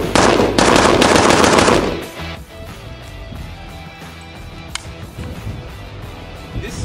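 A Zastava ZPAP M70 rifle fired at an outdoor range, with a loud, close, rapid string of sharp shots lasting about two seconds. A quieter stretch follows with faint background noise and a single small click.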